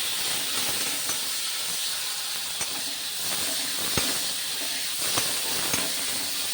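Dal (lentils) boils on the stove, letting off a constant, fairly quiet hiss of steam with small pops and ticks.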